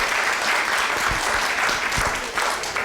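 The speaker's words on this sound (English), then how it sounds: "A round of applause, everybody." An audience claps in a steady, dense round of applause at a panel event discussing Marion Barry, sustained and fairly loud for the full stretch without letting up.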